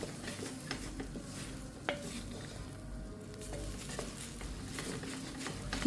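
Meat masala powder roasting in a pan with other ingredients for an egg curry, heard as continuous low sizzling under repeated scraping and clinking stirs of a spoon against the pan, no talking.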